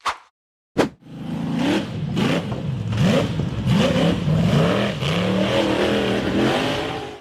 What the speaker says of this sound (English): accelerated up a winding rocky dirt slope, then tipped over and rolled onto its side, getting stuck against a tree trunk